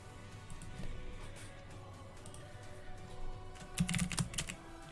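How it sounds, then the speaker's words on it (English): Rapid typing on a computer keyboard patters quietly in quick irregular clusters of clicks, faint and close, ending in a denser flurry of keystrokes. "I hear you fiercely typing"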